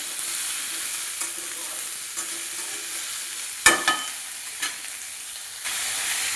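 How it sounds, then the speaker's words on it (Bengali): Chopped pumpkin and potato get stirred in a frying pan over a soft, low sizzle, with a few distinct scrapes and knocks of the spatula against the pan, one louder clatter near the middle. "এখন কেটে রাখা কুমড়ো আর আলু দিয়ে দিলাম। ভালো করে একটু নাড়াচাড়া করে"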